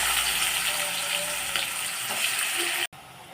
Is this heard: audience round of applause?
no